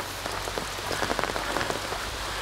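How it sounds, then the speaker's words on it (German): Rain begins falling outdoors, a dense, steady patter of drops striking surfaces at close range with scattered louder individual hits and no voices. "Es fängt zu regnen an."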